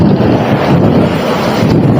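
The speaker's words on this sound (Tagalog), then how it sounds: "Lakas ng hangin." Strong wind buffeting the microphone outside an abandoned building at night, a loud, constant low rumble with gusty swells throughout.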